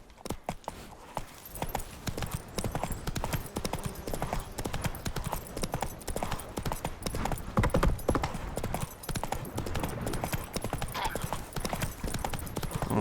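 Roach the horse galloping in The Witcher 3, a rapid, continuous clip-clop of hooves that runs steadily and close throughout, with no voices over it.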